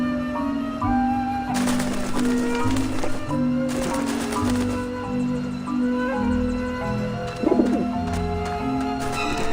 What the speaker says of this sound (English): the pigeons obviously like this dish vent